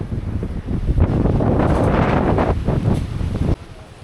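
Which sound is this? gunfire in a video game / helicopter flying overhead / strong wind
strong wind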